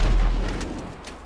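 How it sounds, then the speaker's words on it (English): A firework launcher fires in Grand Theft Auto Online, one deep booming blast at the start that rumbles and fades over about a second, with no talk. "Did he seriously shoot a firework gun at him?"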